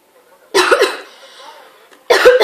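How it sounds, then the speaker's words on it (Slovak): Two harsh, loud coughs from a person who is ill, close to the microphone and separated by a short breathy pause. "Prepáčte, že kašľal, som chorý."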